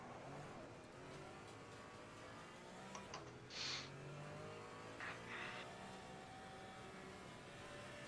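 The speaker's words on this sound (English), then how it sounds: "A car coming behind us." Sim racing car engine at Bathurst droning steadily with shifting harmonics as another car closes from behind, a couple of brief higher bursts of engine or tire noise mid-clip, no talk.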